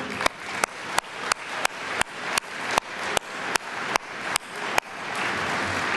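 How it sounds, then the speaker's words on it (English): Clapping at an agricultural alumni fish fry, sounding as sharp rhythmic beats in a steady slow pattern that ends in a sustained swell of applause. "let's please give a warm round of applause for Chef Hubert."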